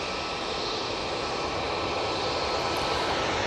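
A fixed-wing aircraft at Manchester Airport, a steady broad engine roar that holds loud and even throughout without a break.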